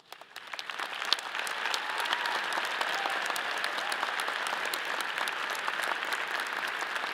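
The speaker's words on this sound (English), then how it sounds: "Will the candidates for Honors Scholar please rise so we may applaud your achievements?" A commencement audience applauds the honors scholar candidates at a liberal arts graduation ceremony, clapping that starts sparse, quickly swells into a broad, steady ovation from a large crowd and holds throughout.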